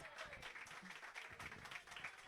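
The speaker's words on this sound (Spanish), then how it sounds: "¡Fuertes aplausos!" Audience applause at a live cultural show, steady dense clapping filling a short stretch at a moderate distance, with no voices standing out.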